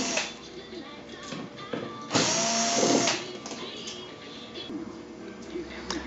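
Power screwdriver removing screws from the panel frame of a Sony KDL-40XBR4 LCD TV, a brief close whirring burst between quieter handling noises, with someone talking.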